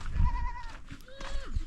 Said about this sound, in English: this is a shed of goats